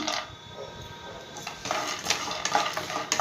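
Peanuts frying in hot oil in a pan, a soft sizzle with light clinks and stirring scrapes growing busier toward the end, close and without talk.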